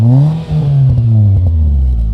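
A 2002 Mitsubishi Lancer fitted with a performance muffler revs loudly and steadily up close, its deep exhaust note rising and settling over about two seconds with a brief dip near the start.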